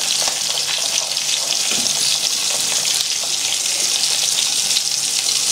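Beef burgers fry in a pan in their own juices, a loud, steady, close-up sizzle that carries on without a break and without talk.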